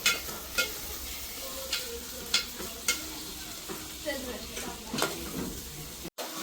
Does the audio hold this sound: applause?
no